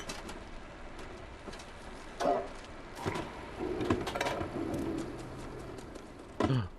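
Pigeons cooing in the cat adventure game Stray, soft and somewhat distant over a steady ambient bed, with a few low coos and scattered clatters; no voices.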